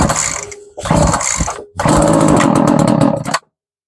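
A troublesome Poulan gas string trimmer engine catches and runs. It revs in raspy two-stroke bursts with a brief dip between them, then cuts off after a few seconds.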